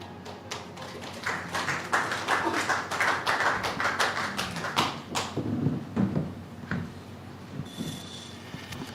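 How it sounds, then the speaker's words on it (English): Audience applause at a World Environment Day 2025 event on beating plastic pollution: a fairly quiet round of scattered, crisp hand claps that builds into a dense patter, then thins out and fades. "Thank you very much for that round of applause."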